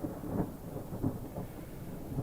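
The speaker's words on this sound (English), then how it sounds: "I heard, as it were the noise of thunder" Low rolling thunder sound effect, a deep rumble swelling in a few soft waves over a couple of seconds, heard alone without speech.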